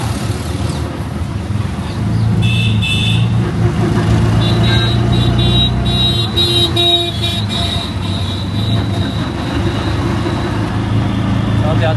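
Busy road traffic heard while riding a motorcycle carrying three people, engines droning and a short horn toot, loud and close among vehicles, with muffled voices underneath.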